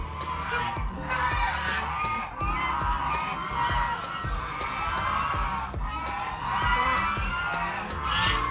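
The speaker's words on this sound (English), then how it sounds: "Ducks and geese." Ducks and geese at Tobu Zoo in Japan give a steady run of overlapping honks and squawks, fairly close and continuous, with a crowd murmur underneath.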